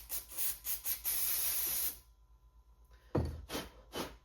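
Aerosol spray hissing onto a vintage Stihl chainsaw part, several close bursts: short puffs, a longer steady blast, a pause, a thud, then more short sprays.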